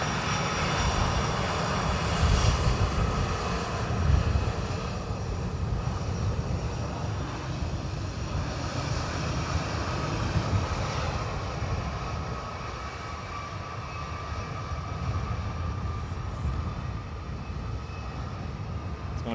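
An airplane at Dublin Airport rumbles with a steady, broad engine roar at moderate distance, holding continuously and easing slightly toward the end, with no voices.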